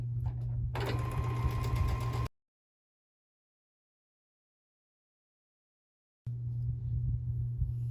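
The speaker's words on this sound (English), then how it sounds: "So then I can just sew along that diagonal." A sewing machine stitching quilt fabric along a diagonal line, its steady motor hum running close and clear, cutting out abruptly into silence, then starting up again for a short final burst.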